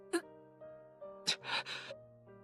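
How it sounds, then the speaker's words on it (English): Painful gasps heard over a phone call in the Tears of Themis game: a few sharp, breathy intakes and strained exhalations, close and moderately loud above soft sustained background music. "All you hear are painful gasps"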